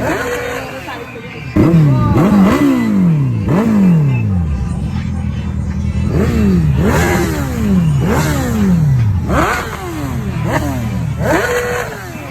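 A motorcycle engine revs repeatedly in loud rising and falling surges during a circus rope-pull stunt, as a man hauls the bike with a rope; crowd noise sits beneath.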